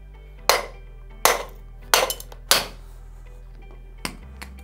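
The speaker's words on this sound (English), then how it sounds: "Grab our trusty claw hammer, a couple whacks on the bottom of the cylinder" Claw hammer whacking the bottom of a gas cylinder on an upturned Steelcase Amia office chair, four sharp metallic strikes at a steady pace followed by a lighter fifth tap, over a low hum with no talking.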